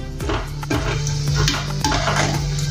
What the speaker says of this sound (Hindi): ऐसे पलट पलट के इसको तलना है, दोनों तरफ से अच्छे से तलने के लिए होना।